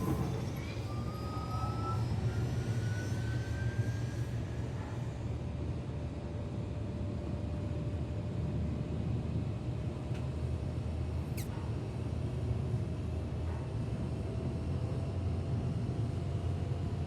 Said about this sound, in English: The shuttle is preparing to depart.